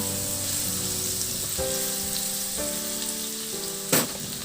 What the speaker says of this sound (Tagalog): Ilagay ko na rin yung bawang. The same process, ihalo hanggang sa maluto yung bawang.